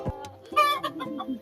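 A domestic chicken clucks in a short burst of close, loud squawky calls while being held by hand, followed by a few softer clucks.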